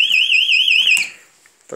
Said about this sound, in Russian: Таймер сработал.